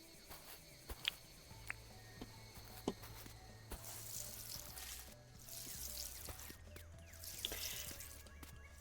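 Watering crops with a watering can in the game Dinkum: soft, steady trickling and pouring water with a few sharp drip-like clicks, moderately faint over a low game hum, no talking.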